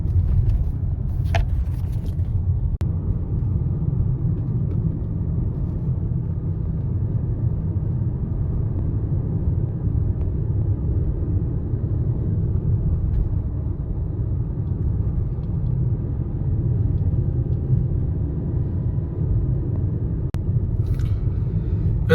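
Car driving on a mountain road from Kashmir toward Leh, a steady loud low engine and road rumble from inside the vehicle, continuous and unchanging.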